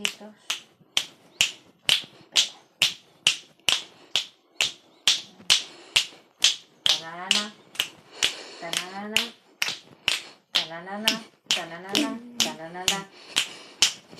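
Finger snaps in a steady, evenly spaced rhythm, close and crisp, with voices talking and laughing over the later snaps.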